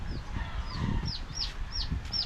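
Several mother hens cluck and squawk in short, repeated bursts, fairly close, over a low background murmur.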